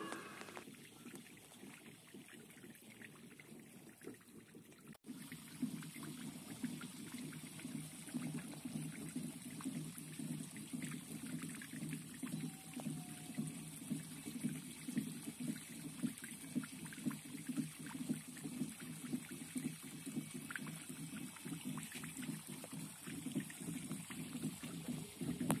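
Water drains through the bell siphon of a low-cost aquaponics grow bed, making a quiet, continuous trickling gurgle that grows slightly fuller after the first few seconds.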